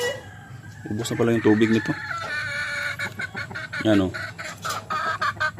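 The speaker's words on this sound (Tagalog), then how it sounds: "Okay itong mga manok na ito mga farmers kasi hindi masyadong mailap" Chickens clucking and murmuring in a small backyard coop on a modest farm, with short bursts of hen calls repeating close by while someone talks in between.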